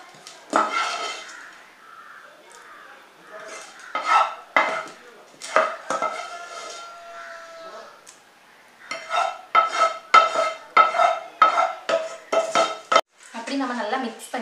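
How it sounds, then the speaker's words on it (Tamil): Onion and egg mixture for a bread omelette being mixed in a bowl, with repeated clinking and scraping of a utensil against the dish in quick rhythmic bursts, close and fairly loud. "நம்ம ஆல்ரெடி எடுத்துக்கிட்ட ஆனியன் எக் எல்லாமே நல்லா மிக்ஸ் ஆகிற அளவுக்கு மிக்ஸ் பண்ணிக்கலாம்"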